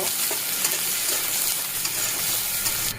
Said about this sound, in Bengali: পেঁয়াজটা এখন একটু লাল আকারে ভেজে নেব